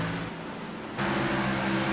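Race cars at Bristol in the iRacing sim make a steady engine drone that steps up in pitch and loudness halfway through, with several cars sounding together on track.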